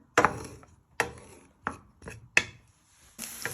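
Meatballs made of pork with peppers being stirred in a frying pan, giving five or six separate scraping, clattering strokes spaced about a second apart, close and fairly loud, with no sizzle or talk between them.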